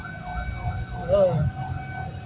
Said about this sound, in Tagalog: Bumbero yan.